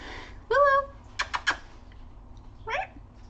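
A pet cat gives a short meow, followed by a few soft thumps and then a second brief, quieter meow in an otherwise quiet indoor room.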